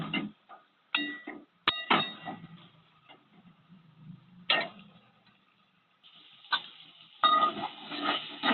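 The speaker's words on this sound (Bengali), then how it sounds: "এখন আমি এই সময় দিয়ে দিলাম ভেজে রাখা ওল আলু ও চিংড়ি মাছ সমস্ত মশলার সাথে মিডিয়াম ফ্লেমে ভালো করে মিশিয়ে নেব" Fried elephant foot yam, potato and prawns stirred with spices in a pan over medium flame, giving a series of scraping and knocking spoon strokes with light sizzling between them, close and fairly quiet.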